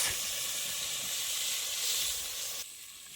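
Ginger paste sizzling hard in a hot pan over an open outdoor fire for mutton curry, a steady loud hiss that drops slightly near the end.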